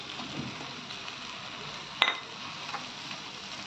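Prawns sizzle and fry steadily in hot oil in a pan for a Bengali prawn curry, with a brief clink of a utensil partway through.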